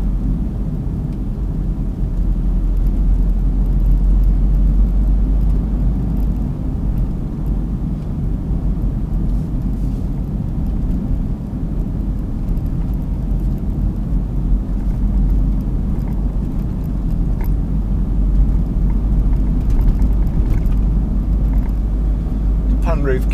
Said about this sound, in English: I'll just try and demonstrate the gear change and how you can make it smoother.